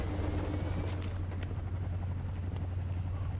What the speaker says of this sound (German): Es gibt einen Helikopter.